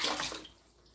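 Water runs from a tap over a bunch of celery being washed, a brief close splashing rush that thins out toward the end.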